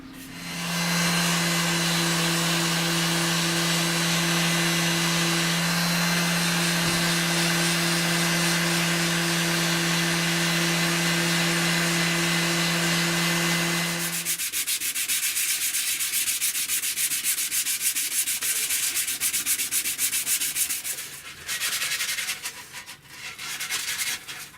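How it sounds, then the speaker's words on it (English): Continuous loud power sanding of a Flaxwood guitar kit body with a steady motor hum, then rougher, scratchier sanding with uneven pauses near the end. "I can go ahead and start sanding all of this flat and smoothing out the body."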